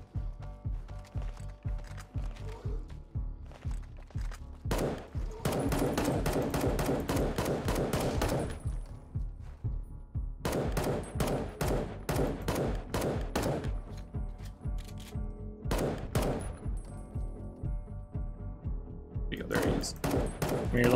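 Rapid bursts of gunfire in the video game Fallout: New Vegas, dense fusillades with mechanical clacks, coming in several long volleys separated by brief lulls, with some voice heard in between.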